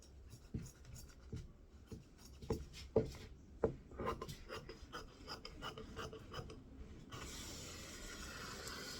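Fabric is cut with scissors along a drawn line for a scrunchie, giving soft, irregular snips and rasping slides close by at low volume, with a brief louder rustle near the end.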